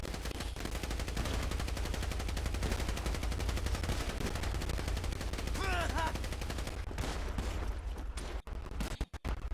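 Video game gunfire crackles in dense, rapid automatic bursts almost without pause during a car-theft shootout with police, then thins to a few sharp, isolated shots near the end.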